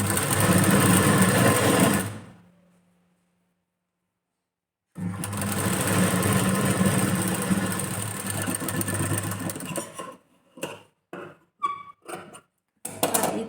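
A sewing machine stitches a quarter-inch seam on the front panel of a katori blouse. It runs in a steady close whir, stops for a pause, then restarts and breaks into short stop-start bursts.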